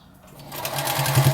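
Sewing machine topstitching around a quilted potholder, a short burst of rapid whirring stitches that builds in speed and loudness, close up.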